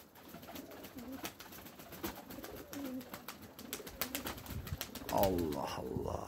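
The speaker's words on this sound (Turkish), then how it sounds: "Kuşlar oraya bastı gitti gene." Pet tumbler pigeons outdoors, with soft cooing calls that rise into a clearer, louder coo near the end over quiet background rustling and a few faint clicks.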